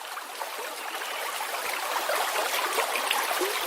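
Steady babbling brook, flowing stream water trickling and splashing close by, a continuous bright rush that holds level and swells slightly toward the end, with no voices.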